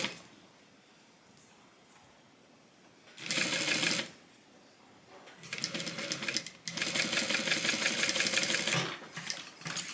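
A sewing machine stitches a tote bag in three bursts: one short run, then two longer runs of rapid, steady whirring with brief quiet pauses between them.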